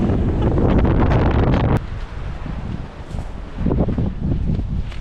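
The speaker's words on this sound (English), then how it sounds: "That wind is mad." Strong wind roars across the microphone outdoors at a wild campsite, loud and gusty throughout, with one sharp knock and a lull before the gusts build again.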